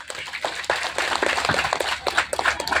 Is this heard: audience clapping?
yes